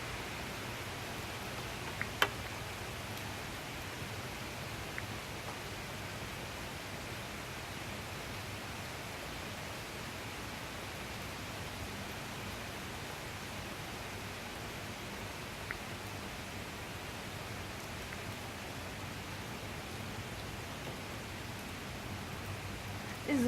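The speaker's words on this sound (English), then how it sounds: "I'm just going to sit here and enjoy my rain." Steady rain falls outside a front porch, a continuous even hiss with no breaks, soft and broad, carrying on alone without talk for the whole stretch apart from a couple of faint small knocks.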